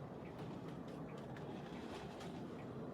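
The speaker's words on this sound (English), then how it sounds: "I think that was a waste train moving." Waste train rolling along the rail line near the Copper King mine, heard from a distance as a steady low rumble with faint wheel clatter, no voices.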